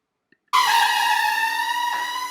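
A drill drives 3-inch screws into an old heart pine wooden floor during an apartment renovation in Poland, producing one loud, steady, high-pitched motor whine of about two seconds that dips slightly in pitch near the end.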